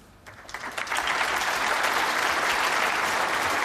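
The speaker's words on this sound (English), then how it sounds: "Sound of applause." Applause from a snooker tournament crowd swells within the first second and holds at a steady, dense clatter of clapping hands until the end.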